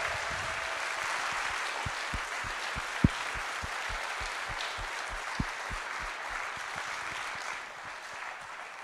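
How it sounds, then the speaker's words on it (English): Audience at a Joomla community event applauding: sustained, fairly even crowd clapping heard from a distance, with a few sharper individual claps standing out before it fades slightly near the end. "how about a round of applause for the hard work that everybody's put into this event?"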